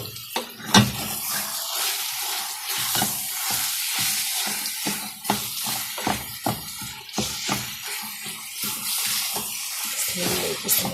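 Ground meat frying and sizzling in a pan with black pepper, cinnamon, salt and seven spices, broadband crackle and hiss punctuated by scraping stirs, steady and close with no talking.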